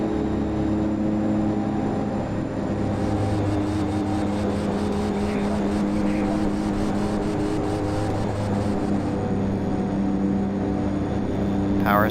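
The engines of an Aerosoft Twin Otter turboprop idle in level flight in a flight simulator, a steady close drone with a sustained hum and whine that stays even throughout.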